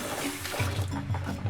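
A tap runs while raw pork intestines are washed in the kitchen, a short, steady splashing rush of water close by.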